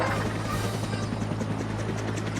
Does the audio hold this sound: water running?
no